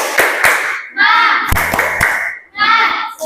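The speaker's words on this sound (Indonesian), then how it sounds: "Ayo, tepuk semangat." A classroom of children doing a rhythmic spirit clap, with sharp clap bursts in a pattern alternating with group chanting.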